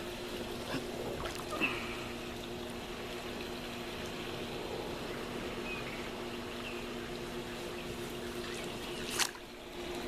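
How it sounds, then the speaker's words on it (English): A Hayward Navigator pool cleaner fitted with a VFLEX kit runs in pool water, giving a steady churning, gurgling drone with a faint hum and an occasional soft knock, close by. "So I just installed the new VFLEX system into this cleaner, and it's moving pretty good."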